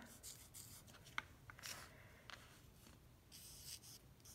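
A silver Sharpie marker writes across a surface in short, faint scratchy strokes separated by brief pauses, close and quiet.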